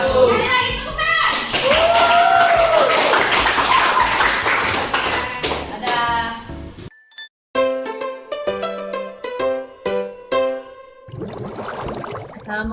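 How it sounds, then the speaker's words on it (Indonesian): A classroom of children claps their hands in applause, a dense burst of clapping mixed with young voices for several seconds, then giving way to scattered chiming, tinkling tones. "Sekali lagi tepuk tangan."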